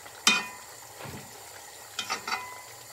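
Duck pieces cook in a pan over medium-low heat, releasing fat. A close, soft sizzle runs under a few scraping stirs, with one sharp scrape at the start and a cluster of quicker ones later.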